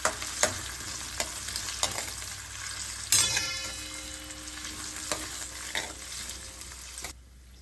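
Potatoes and green chilies frying in a pan, with a steady sizzle and several sharp scraping strokes of a spoon stirring through them, close and fairly quiet.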